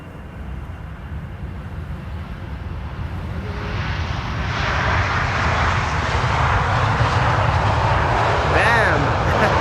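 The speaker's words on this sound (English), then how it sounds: "KLM flight 682 arriving from Vancouver. Here it is." A KLM Boeing 777-300 arriving from Vancouver lands at Amsterdam Schiphol Airport in sunny crosswind conditions, its engine roar swelling loud and close over steady wind, with people talking nearby.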